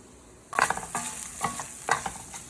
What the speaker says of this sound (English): you could actually hear that the rice is getting the proper kind of a crunch on the outside